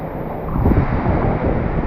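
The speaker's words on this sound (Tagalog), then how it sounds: "Bigla-biglang nalakas yung hangin." Strong typhoon wind buffets the microphone in a steady, rumbling roar that swells and gusts, with a faint wash like surf underneath; no one speaks.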